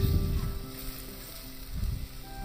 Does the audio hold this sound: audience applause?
no